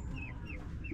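A pair of farm chickens, a hen and a rooster, cluck in short, soft repeated calls close by, with a faint background hum.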